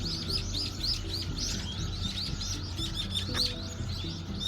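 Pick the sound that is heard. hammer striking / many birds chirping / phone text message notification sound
many birds chirping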